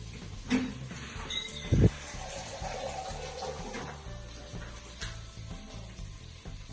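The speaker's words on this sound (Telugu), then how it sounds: "సో ఇందులో కొంచెం వాటర్ వేసుకుందాం తొందరగా మిక్స్ అవ్వడానికి." Water poured into a mixer jar for blending a spinach biryani paste, a short splashy trickle with a couple of louder clunks early on, close and fairly quiet with no talk.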